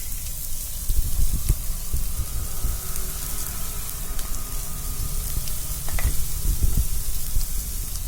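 Onion and carrot hit hot oil in a pan for dim sum filling and fry with a loud, steady sizzle, with a few stirring scrapes and clinks near the end and nobody speaking.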